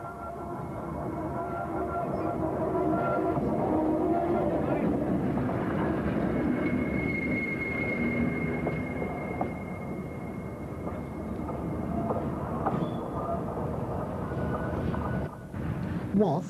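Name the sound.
locomotive 76056 passing through Victoria station, Woodhead Line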